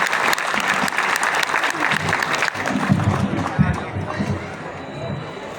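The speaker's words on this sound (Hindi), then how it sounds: "जोरदार तालियां" Loud, dense audience applause fills a Hindi poetry gathering (kavi sammelan) in Farrukhabad, a sustained wash of clapping from a large crowd with some murmuring underneath.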